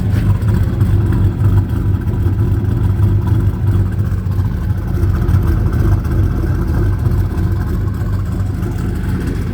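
A 1991 Chevy S10 pickup fitted with a 2001 Avalanche 5.3 V8 idles steadily and loud up close, a deep, even rumble that holds without pause and with no talk over it.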